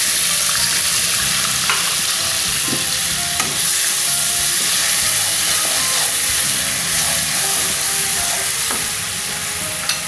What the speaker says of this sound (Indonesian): Sekarang proses menggoreng bumbunya ya.